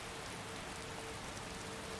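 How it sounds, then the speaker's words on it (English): Steady rain falls in Skyrim, a continuous even hiss of drops with no voices and no thunder. "I really feel like it's not supposed to be raining up here like this"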